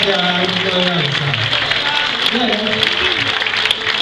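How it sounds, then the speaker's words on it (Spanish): Audience applause at a dance event in Colonia del Sacramento, a steady crowd clapping throughout with music and voices mixed underneath. "Más fuerte el aplauso"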